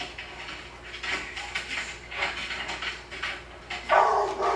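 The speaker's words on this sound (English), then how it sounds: "Little overexcitement barking." A dog barking from overexcitement during a self-control training session, a string of short, fairly distant yips and barks over a noisy room, ending with a louder bark.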